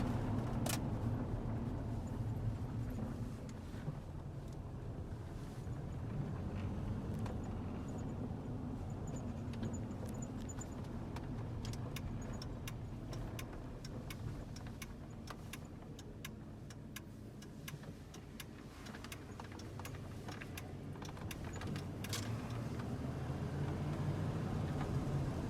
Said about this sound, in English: Truck goes down the road great,